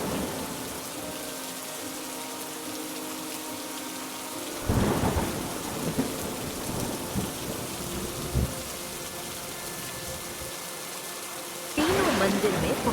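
Steady heavy rain with a rumble of thunder, and a burst of louder downpour or gusting noise partway through and again near the end.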